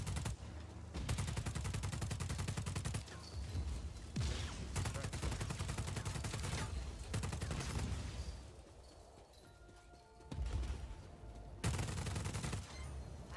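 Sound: underbarrel grenade launcher firing and explosions, Just Cause 4 video game

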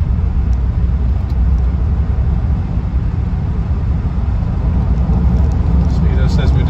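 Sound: 1976 Rolls Royce Silver Shadow driving at 60 mph

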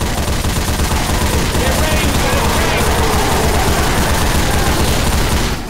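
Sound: gunfire in the video game Left 4 Dead 2

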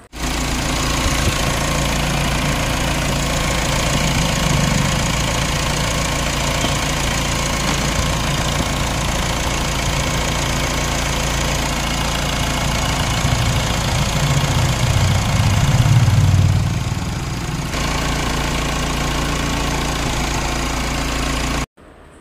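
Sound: SUV diesel engine idling

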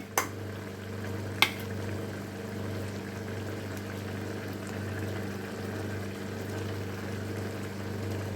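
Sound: ridge gourd and carrot sautéing in a pan

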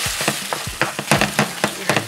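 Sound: eggs frying in a skillet with potato hash

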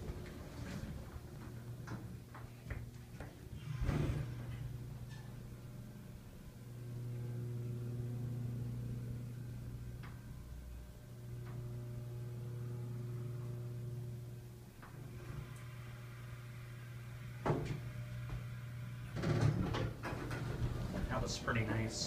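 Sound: hydraulic elevator motor and relay running

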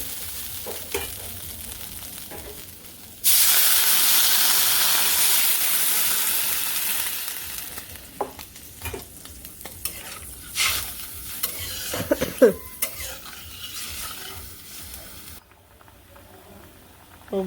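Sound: curry sautéed with spices in a pan, then liquid added

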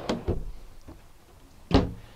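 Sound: pull-out drawer in a 2011 Komfort trailer being opened

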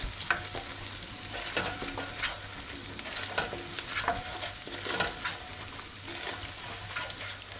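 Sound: beef tail fat and oil sizzling while frying for kavurma

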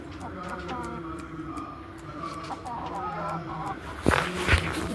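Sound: Fayoumi and Brahma chickens clucking

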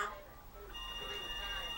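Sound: telephone ringing

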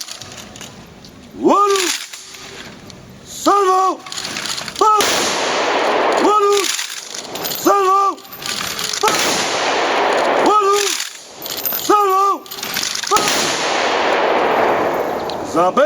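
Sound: ceremonial honorary rifle salute volley fired at a patriotic celebration

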